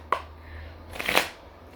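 Oracle cards are shuffled before a reading, giving two short riffling bursts separated by a brief pause, close and fairly quiet with no voice over them.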